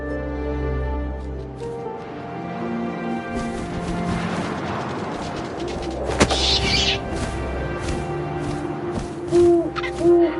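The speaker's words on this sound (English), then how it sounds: "And suddenly, I was an owl." Owl hoots in the video game What Remains of Edith Finch, set over a low wind-like rumble and layered game ambience, with a sharp thump midway and two short tonal hoots near the end.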